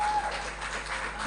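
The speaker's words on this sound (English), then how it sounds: "Another round of applause for her." Brief applause in the ECOWAS Parliament chamber during its 2024 first ordinary session, a short even burst of clapping from the assembled members, moderately loud and without speech.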